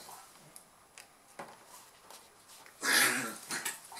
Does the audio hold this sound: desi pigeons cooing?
no